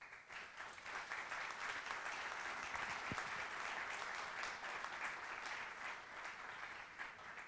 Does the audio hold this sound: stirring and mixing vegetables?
no